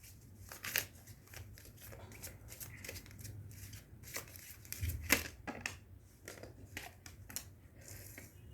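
Tarot cards shuffled and drawn by hand, quiet and close, with soft riffling, papery snaps and sharp flicks coming in uneven bursts.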